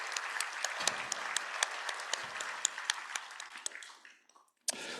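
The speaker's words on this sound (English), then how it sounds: "let's give them a little round of applause for joining us." At a foreign policy event, a small audience gives new staff a round of applause, with scattered crisp claps that fade to near silence, then a short final burst at the end.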